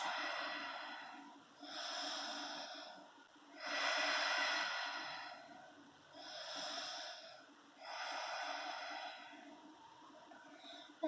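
Slow, deep breathing during a yoga child's pose: four or five long, airy breaths, each rising and fading over about two seconds, close and soft with no talking.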